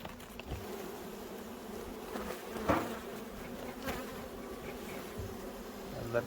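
Many honey bees buzz continuously around the listener at an opened hive in January, a dense droning hum with individual insects whizzing close now and then.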